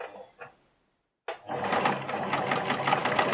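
Sewing machine stitching a finishing seam on a fabric key holder, starting after a few soft clicks and a brief silence, then running steadily with a fast, even mechanical rattle close by.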